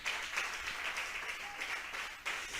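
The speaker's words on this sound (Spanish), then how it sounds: "Vamos a brindarle un fuerte aplauso a nuestro Dios." A church congregation breaks into strong, sustained applause, steady dense clapping from many hands filling the room for the whole stretch, with no voices over it.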